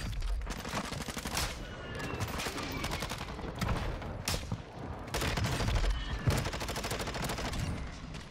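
Dense gunfire bursts in Warzone 2.0 keep coming in rapid volleys with some heavier cracks, loud and continuous, with scattered game noise behind.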